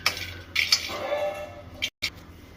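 Peanuts are stirred as they roast in a pan for South Indian chutney powder, giving a few close, sharp metallic clinks and scrapes in short bursts with brief pauses between them.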